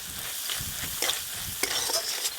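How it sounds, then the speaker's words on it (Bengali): Spice paste sizzling and being stirred in a pan for a crab curry, a steady broadband frying hiss broken by scraping strokes of the spatula close by, no voices. "মশলা বেশ ভালো করে কষবো।"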